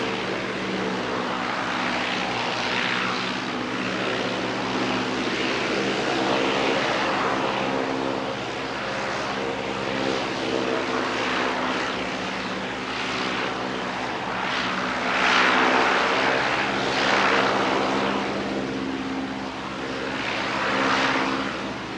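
Flying doctors propeller plane passing overhead near an aero club, a steady droning engine and airscrew hum with a rich buzzing tone that swells and fades slightly, fairly close and continuous with no talking.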